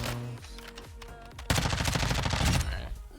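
Rapid video-game gunfire for headshots: quiet clicks and tones first, then a loud, close burst of quick shots lasting about a second before it fades.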